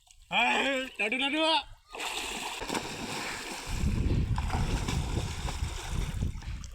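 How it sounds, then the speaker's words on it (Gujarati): A man plunges into a cold river, giving a brief splash followed by churning, rushing water that carries on after a short burst of talk. "ડૂબકી મારી પડ્યો રે અંદર ને અંદર"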